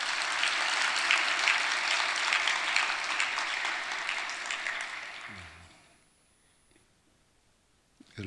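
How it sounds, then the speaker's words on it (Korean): A church congregation applauds children from the youth and elementary departments at an early-morning service, a dense, steady wash of clapping for about five seconds that fades out into near silence. "박수 한번 뜨겁게 쳐봐요."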